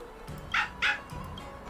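A small dog in the video game Honkai: Star Rail gives two sharp, bright yips in quick succession, followed by soft whimpering tones.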